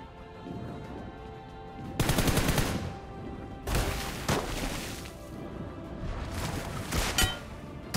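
Gunfire rings out in a battle royale video game during a headshot, with several loud bursts of rapid shots separated by quieter stretches of game sound.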